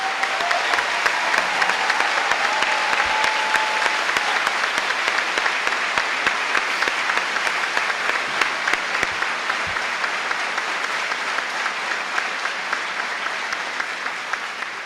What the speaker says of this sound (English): please stand so we can give you a round of applause